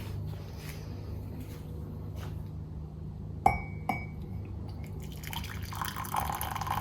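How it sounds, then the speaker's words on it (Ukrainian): Glass clinks of rosehip tea being poured into a glass at a home breakfast table, two sharp chimes near the middle followed by soft trickling liquid against a low steady hum, close and fairly quiet. "Сергій, тобі наливати чай з шипшини?"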